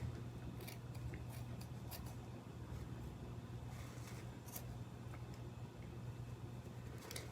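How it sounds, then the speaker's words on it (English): Scissors snip through yarn loops to make a pom-pom, giving steady, faint, close cutting clicks over a low constant hum, with no talking. "two sides with loops that you're going to start snipping off"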